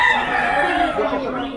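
A rooster crows loudly and close by at an animal fair, one long drawn-out call over a noisy background with other birds and people talking.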